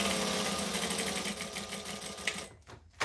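A sewing machine runs steadily, stitching with pink thread through several pieces. A fast, even mechanical chatter continues close by and fades near the end.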